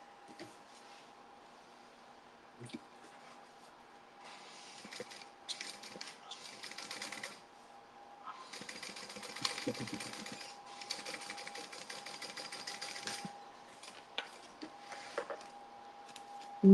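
A sewing machine bastes across tote bag webbing, its faint rapid stitching running in several bursts over a steady low hum, with short pauses between runs.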